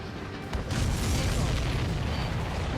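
Supply ship exploding in the Ace Combat 7 video game, a loud sustained rumbling blast with a sharp onset around half a second in, then a dense roar continuing at full strength to the end.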